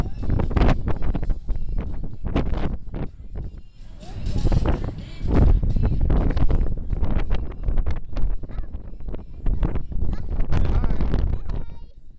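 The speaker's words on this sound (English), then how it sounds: "I like the tear of the wind." Strong wind buffets the microphone on an open deck of the Carnival Splendor cruise ship, a loud, constant roaring rush that surges and eases, with people talking briefly over it.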